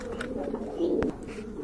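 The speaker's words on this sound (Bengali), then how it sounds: "এটা কিন্তু আপনার ডাবল পট্টির কবুতর, ডাবল গিয়ারের কবুতর" Double-crested fancy pigeons coo softly nearby, a low murmuring call that swells into one fuller coo near the end.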